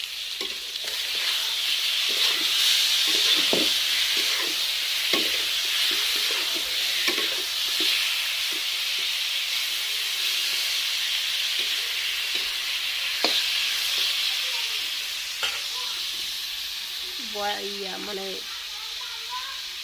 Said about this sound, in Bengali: লবণ হলদি সব কিছু মাখাইলাম, মাখা করিয়ে তেলে করিয়ে যে ভাজি করে দিচ্ছি।